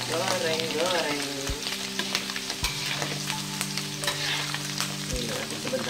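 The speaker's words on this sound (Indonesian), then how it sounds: "Kita goreng-goreng." Tempe and salted squid fry in hot oil in a pan, giving a steady close sizzle with crackling pops and scattered stirring clatter, with a low hum beneath.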